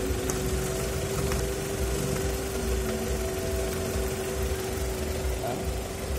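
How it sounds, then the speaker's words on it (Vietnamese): A used 2009 Chevrolet Captiva with a manual gearbox idles smoothly and steadily, its engine hum continuous and close, with a faint tone held throughout and no roughness or revving. "Động cơ chạy rất là êm đấy."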